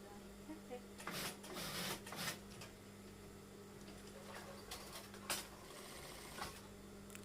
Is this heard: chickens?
no